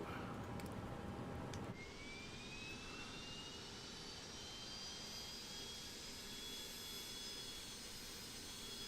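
Engine number 2 of an ATR72-600 turboprop starts up, a whining turbine note climbing steadily in pitch over a loud constant cockpit and airframe drone, after an abrupt shift in the background noise early on.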